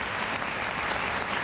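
A television talk-show studio audience applauding, dense sustained clapping from many hands that fills the room at a steady level, with no speech over it.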